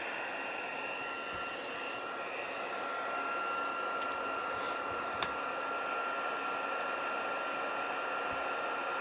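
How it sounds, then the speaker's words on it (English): A heat gun blows a steady, loud whoosh of hot air, melting white embossing powder in a craft demonstration; the even roar holds throughout with no talking. "I'm going to switch the heat gun back on, and we're going to watch as this one melts"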